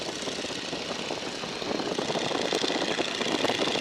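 A Boeing Stearman biplane's radial engine drones steadily in flight, a loud, rough continuous roar heard up close from the cockpit that fills the whole stretch with no talk over it.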